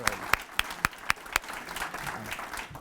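A short burst of applause: several sharp, evenly spaced claps, then a softer patter of clapping fading out.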